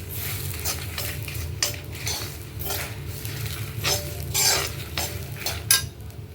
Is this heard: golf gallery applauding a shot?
no